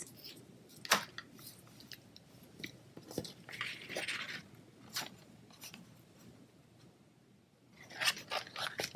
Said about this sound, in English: I have the Bermuda Bay stitch satin ribbon, and I'm just going to cut a piece.